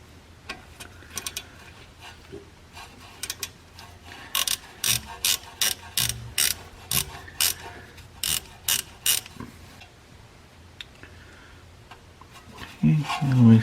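A hand ratchet loosens a 10mm bolt on a Chevy Equinox AWD wheel speed sensor, with bursts of sharp, evenly spaced clicks at close range and brief pauses between strokes.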